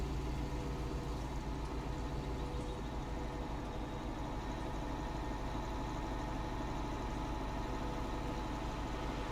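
A farm tractor in Farming Simulator 19 idles with a steady, dense engine drone that holds unchanged throughout, with no voices over it.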